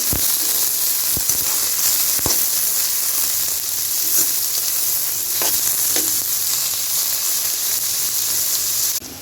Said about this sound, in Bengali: তেল গরম হয়ে গেছে, দিয়ে দিই পেঁয়াজ কুচি। এগুলো একদম লাল লাল করে বেরেস্তার মতো করে ভেজে নিব।